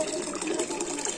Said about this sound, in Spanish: Con este sonido del agua vamos a despedir este vídeo de esta escultura floral